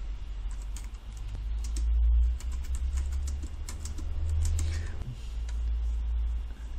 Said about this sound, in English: 一路打字嘅時候咧就我唔望嗰個 keyboard 嚇